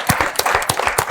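Applause at a lecture with speaker Julia Wallach, a handful of distinct loud claps at an uneven rhythm, close by, with no talk over them.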